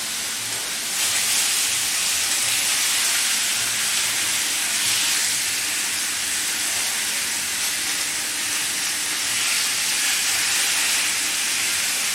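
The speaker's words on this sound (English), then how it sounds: "we do this with the tomatoes, sear them up" Tomatoes sear in a hot pan with a loud, close, continuous hiss and sizzle that holds steady throughout, with no talking.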